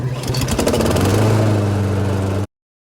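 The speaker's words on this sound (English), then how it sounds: "you go to start your lawnmower" A lawnmower engine turns over and catches, running as a loud, steady near hum with a rapid pulsing rhythm for about two and a half seconds, then cutting off abruptly.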